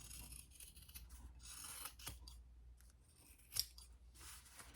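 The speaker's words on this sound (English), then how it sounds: "I'm going to just trim it just a little." Scissors trim material in a quiet room, giving a few soft, scattered snips with one sharper, louder cut near the end.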